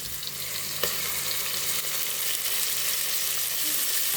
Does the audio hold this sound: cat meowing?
no